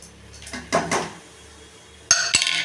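Light metal clatter of roasted gram being dropped into a pan of sesame and jaggery syrup, with a few sharp utensil scrapes and clinks, close and intermittent.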